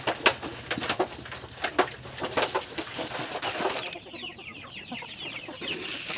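Chickens cluck and squawk close by in irregular bursts, a busy flock sound with sharp calls in the first half and quieter chatter after.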